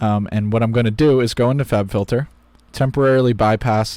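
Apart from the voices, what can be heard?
None of the usual background noises is heard.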